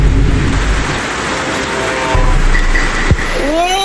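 Steady rain hisses loudly throughout, with a sharp knock partway through and a short rising whine near the end.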